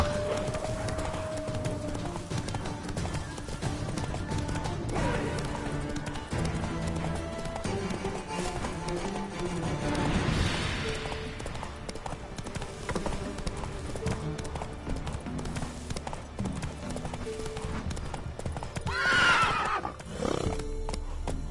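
Roach the horse from The Witcher 3 whinnies and gallops with rhythmic clip-clop hooves, mixed with game ambience, a couple of loud neighs standing out near the start and toward the end.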